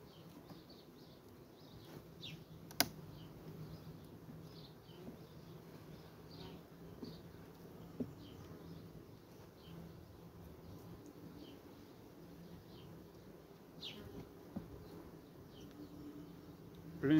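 A queenless honeybee colony hums steadily inside the hive, a faint continuous drone with scattered brief buzzes from individual bees close by.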